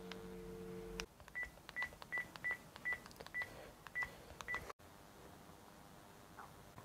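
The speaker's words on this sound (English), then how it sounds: "In goes the phone, into the biscuit box, and let's quickly dial it up and see what happens." A mobile phone placed inside a metal biscuit box is dialed: a steady tone gives way to a quick series of about nine short, clear keypad beeps, with a brief dropout near the end.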